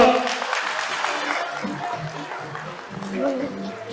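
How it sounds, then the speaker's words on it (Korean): An indoor audience at a political launch event in Daegu claps warmly for a former prime minister, a dense patter that swells and eases, with an announcer's voice speaking over it. "김세경 전 국무총리께 다시 한번 뜨거운 박수 부탁드립니다"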